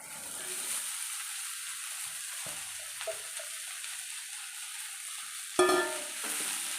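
Lentils tossed into hot oil in a pan sizzle softly and steadily, with a sharp spatula scrape and clatter near the end as they are stirred, close but fairly quiet.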